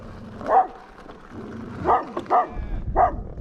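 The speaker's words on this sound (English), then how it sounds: "Okay, there's a dog here." A dog at a campsite barks several times, sharp yips spaced unevenly over a low background rumble, fairly close by.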